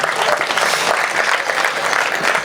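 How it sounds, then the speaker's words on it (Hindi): Dense applause from an audience at a Hindi poetry recital (kavi sammelan), steady and close, filling the whole moment without pause. "तो एक बार रोहित शर्मा के लिए ताली बजाओ"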